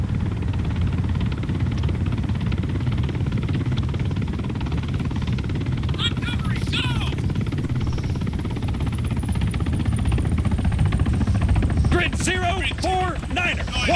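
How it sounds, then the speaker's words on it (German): A helicopter in the military video game Arma 3 gives a steady, loud, low rotor-and-engine drone that runs through the whole stretch, with people talking over it. "Was, der Hubschrauber gehört auch zu den Feinden?"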